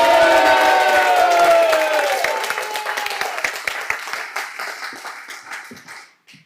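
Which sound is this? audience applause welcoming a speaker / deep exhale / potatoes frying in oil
audience applause welcoming a speaker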